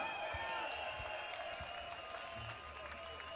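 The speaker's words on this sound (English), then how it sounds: "Give yourselves a round of applause" A festival crowd at a live reggae main stage show applauds in a steady, dense wash of clapping and crowd noise, heard from a distance, with sustained musical tones underneath.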